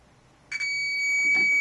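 A continuity tester sounds a steady, consistent high beep once alligator clips are fixed to the ends of twisted wires. The tone starts after a brief click and holds unbroken to the end, clear and close.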